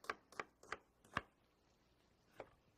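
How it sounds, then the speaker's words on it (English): A knife cuts onions into thin julienne strips, giving four quick board knocks and then a fifth after a short pause, crisp and close but quiet. "we're Frenching the onions right now"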